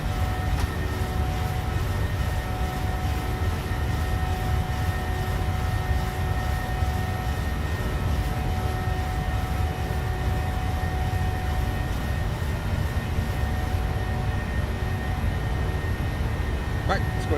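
A Boeing 737's turbine engines hum in a steady, loud drone with a constant whine in a flight simulator cockpit, lasting throughout, while someone talks over it.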